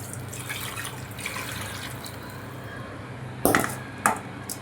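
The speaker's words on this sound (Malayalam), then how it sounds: "നമുക്കിതിനെ പച്ചവെള്ളത്തിൽ ഒഴിച്ച് കഴുകി വൃത്തിയാക്കി എടുക്കാം" Tap water runs steadily as dried shark pieces are washed clean in a kitchen sink, a faint continuous trickle broken by a couple of sharp splashes and clinks near the end.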